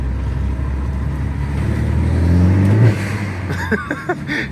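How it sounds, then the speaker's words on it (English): Renaultsport Megane 225 engine revving hard under load with a steady rising drone, then lifting off into a hiss and flutter from the blow-off valve, heard close and loud with no talking. "You can hear that blow-off valve, it's absolutely fantastic."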